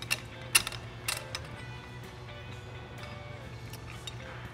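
A shock spring compressor being worked by hand clicks and ratchets in a few sharp, close bursts near the start. Then it settles into a quieter mechanical hum with faint scattered ticks.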